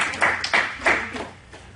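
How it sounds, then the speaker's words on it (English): A few audience members at a school conference clap for themselves: sparse, scattered hand claps in three or four loose bursts that fade out quickly, fairly close. "And then I want you to give yourself a round of applause."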